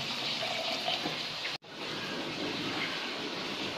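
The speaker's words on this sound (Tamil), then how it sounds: "முழுகிற அளவு தண்ணி விட்டுக்கலாம்" Continuous rushing pour of water into a cooking pot, close and steady, briefly cut off once before resuming.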